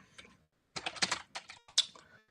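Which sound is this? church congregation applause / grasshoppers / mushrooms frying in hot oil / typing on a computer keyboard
typing on a computer keyboard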